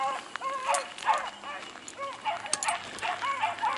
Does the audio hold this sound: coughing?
no